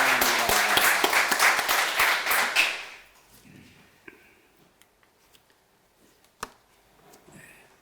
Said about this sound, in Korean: 환영의 박수를